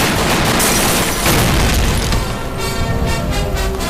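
Police officers open fire in a Hindi-dubbed action movie, a loud booming volley of gunshots and blasts that fills the whole moment with heavy, continuous impact and rumble.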